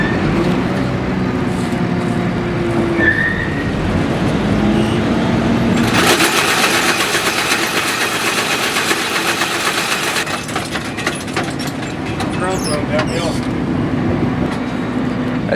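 A combine harvester runs with a loose feeder house chain, its engine drone joined by a loud metallic clattering, rattling roar in the middle stretch, with talk over it.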